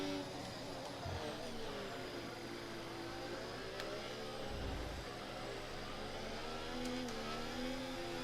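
F1 race car engine accelerating in the F1 24 racing game during a Chinese Grand Prix career-mode race, a steady high-pitched engine drone with rising and falling pitch sweeps, continuous and fairly loud with no talk.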